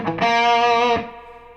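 Electric guitar on a Les Paul with humbuckers plays a tritone riff, a single distorted sustained note cluster ringing strongly for under a second, then cutting off to a faint tail.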